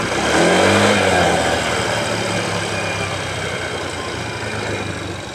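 A Yamaha Mio 125 scooter engine revs on the throttle close by, a loud surge easing into a steady, buzzing mid-pitched drone that holds without talk.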